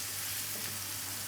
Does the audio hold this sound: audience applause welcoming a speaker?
no